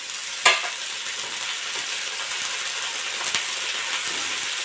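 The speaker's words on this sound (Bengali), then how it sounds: "ফুলগুলো দিয়ে একটু ভালো করে ভেজে নেবো, নেড়ে চেড়ে নেবো" Drumstick flowers and potatoes fry in a pan, a steady close sizzle with a sharp scrape of stirring near the start and another soft clatter later, no voices.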